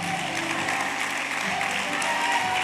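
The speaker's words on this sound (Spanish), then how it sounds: "Dale un aplauso fuerte a Jesús." A church congregation claps loudly and steadily for Jesus during a Spanish-language service on praying in tongues, dense and continuous throughout with faint tonal background sound beneath.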